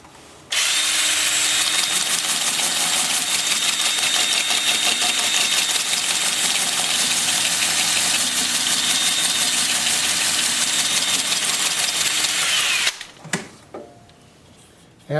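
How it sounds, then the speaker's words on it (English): Wood lathe turning an odd-shaped, out-of-balance piece at about 350 rpm, a loud steady mechanical whir with a rhythmic pulsing hum that runs for most of the clip, then cuts off abruptly near the end. "Lathe is spinning about 350."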